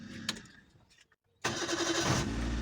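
A car engine, being restarted after a battery revival technique, sputters through a brief crank, falls quiet for a moment, then catches with a loud burst and settles into a strong, steady running roar close by.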